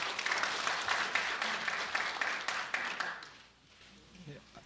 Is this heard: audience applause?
yes